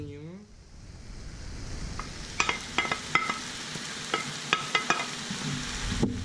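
Peppers and onions fry in a pan for piperade with a soft sizzle, while a spoon stirs them in a run of sharp scraping knocks against the pan.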